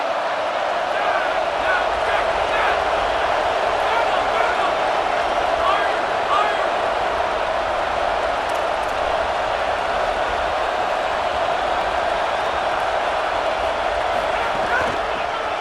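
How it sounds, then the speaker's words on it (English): A steady, loud stadium crowd roar from the College Football video game fills the whole stretch at an even level, with no clear swell. "Decibels rising as the crowd gets behind this defense on third down."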